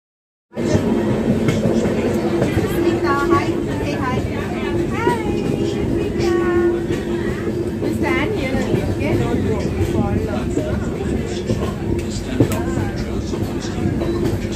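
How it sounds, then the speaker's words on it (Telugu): A Vistadome train on the Bengaluru to Mangalore route rumbles steadily along the rails, a continuous loud carriage roar with people talking over it throughout. "once the train reaches అఖిలేష్పూర్"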